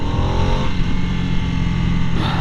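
A new Harley-Davidson motorcycle engine pulls under acceleration while riding, a loud continuous close rumble with a shifting tone that sounds bogged down at low revs, alone without talk.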